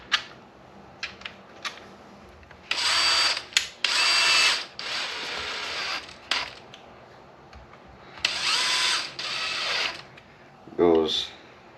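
Power drill drives screws into a Traxxas Maxx-Slash RC car during a teardown, in several whirring bursts of a few seconds each between small clicks and handling noises, close up, with someone talking intermittently.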